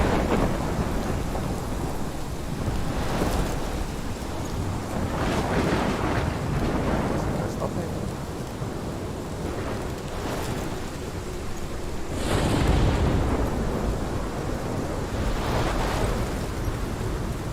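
A thunderstorm in the video game Life is Strange: heavy rain pours steadily while several deep rumbles of thunder roll in and out. A louder crack comes near the end, with no voices.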